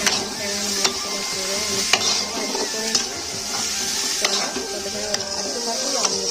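Onions and chickpeas frying together in a pan, with a utensil scraping and stirring in repeated strokes about once a second over a soft, steady sizzle, no one talking.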